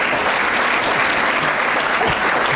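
Studio audience clapping in a dense, steady burst of applause, close and loud for a couple of seconds with no break.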